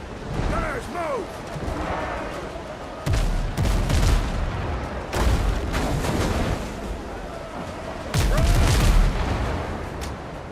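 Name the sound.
ship gunners firing cannons in the video game Windrose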